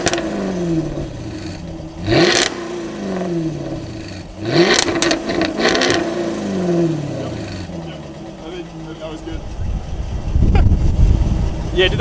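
A Jaguar F-Type exhaust set to loud mode revs repeatedly, each blip rising into a sharp bark before dropping back to a burbling idle, close and loud, with a deeper rumble near the end.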